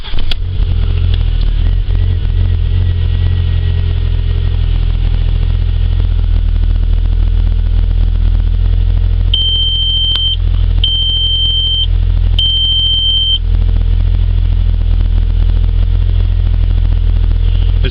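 A 2001 VW Passat B5 1.8T engine, with a check engine light, runs at a steady, loud, low idle throughout, while three short electronic warning beeps sound partway through.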